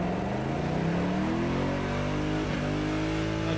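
Car doing a dry burnout at a Summernats burnout elimination, engine roaring continuously at high revs with rising, whining pitch sweeps under a dense wash of crowd and tyre noise, loud and steady throughout.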